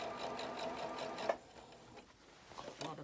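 A sewing machine stitches a seam on a kimono-style jacket in a fast, rattling run for over a second, then stops, leaving quieter handling noises and faint shuffling.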